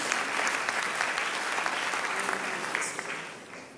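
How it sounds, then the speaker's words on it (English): Audience applause at a startup pitch event, a dense sustained round of many hands clapping with sharp individual claps audible, moderately loud and fading slightly toward the end. "Please give them a big round of applause."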